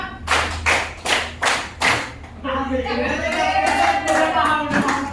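Primary-school class clapping hands together in unison, five distinct sharp claps in steady rhythm, followed by a teacher talking over the room.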